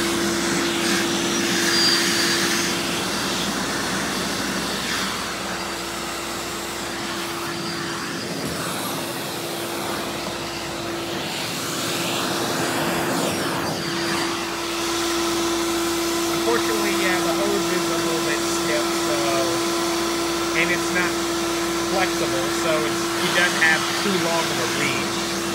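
A Hoover Dial-A-Matic Power Drive U6039 upright vacuum cleaner runs with a steady motor whine and airy roar throughout, while someone talks over it.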